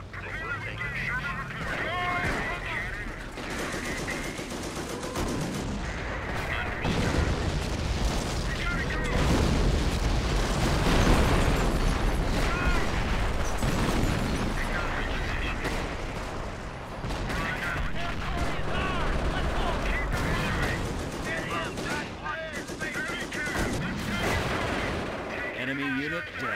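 Heavy tank cannon booms and bursts of gunfire roll continuously in a Company of Heroes battle, loud and dense, with faint voices mixed in.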